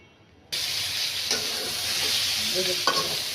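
Onion drops into hot oil in a frying pan, and a loud, steady sizzle starts suddenly and keeps going. A few faint clinks and stirring sounds come through the hiss, with no voices.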